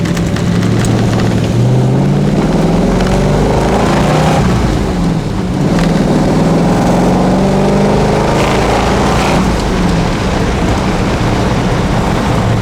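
A 1934 Ford coupe fitted with dual reproduction Holley 94 carburettors drives along, its engine loud and continuous, revving and shifting through rising tones over several gear changes, with light rain noise beneath.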